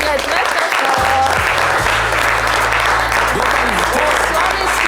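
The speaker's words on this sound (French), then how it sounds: "On peut les applaudir très fort." Loud, steady applause from a crowd honouring a men's volleyball championship team at a televised sports show, continuous clapping throughout with a low hum underneath.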